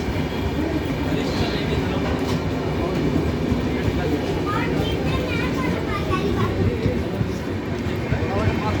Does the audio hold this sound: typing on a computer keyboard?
no